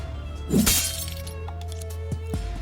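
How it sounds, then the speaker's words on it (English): A greatsword smashes a prison cell lock in the video game Honkai, giving one loud shattering crash followed by a couple of fainter metallic clinks over a steady low hum. "Kevin raised the greatsword and took a deep breath and smashed the lock."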